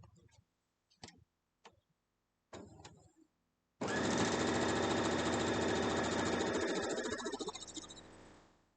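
A sewing machine stitches a straight seam on a Harry Potter box quilt block, starting after a few short clicks and knocks, then running steadily and loudly for about five seconds before slowing to a stop.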